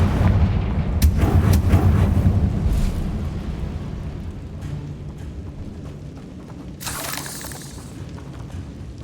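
Confringo blasting spells fired in Hogwarts Legacy, heard as a run of deep, rumbling explosive booms over a steady low game soundscape, with a sharper bright burst near the end.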